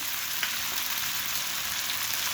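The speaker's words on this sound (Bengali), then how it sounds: "আমি এখন আলু পটলগুলো খুব ভালো করে ভেজে নিচ্ছি" Potatoes and pointed gourd frying in a pan give a dense, even sizzle, close and constant, with one faint tap partway through and no voices.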